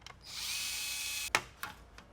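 A small screw is worked loose from the underside of an Acer Aspire AL 15 laptop, a faint whirring tool tone followed by two sharp clicks, quiet and close.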